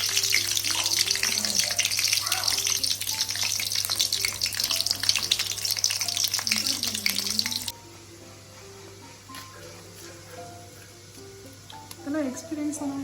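Garlic fries in a pan for a village-style small fish curry, with a loud bright sizzle and crackle that drops abruptly partway through to a much quieter simmer with occasional small pops.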